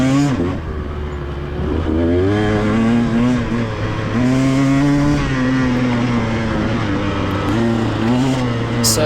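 A motorcycle racing at the Twin Hills track, its engine loud and close throughout, revving up and easing back through shifting pitches as the rider works the throttle.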